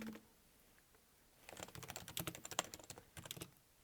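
Keys clatter on a computer keyboard while code is typed, starting after a quiet second and a half as fast, uneven bursts of close, crisp clicks with a brief pause near the end.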